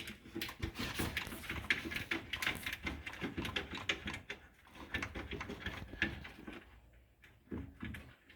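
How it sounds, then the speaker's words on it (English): Metal clicks, ratchet-like rattles and clanking from removing a bolt during a radiator replacement on a Chevy Trailblazer, a dense run of close, irregular tool and hardware noises that thins out near the end. "I'm gonna take that bolt off."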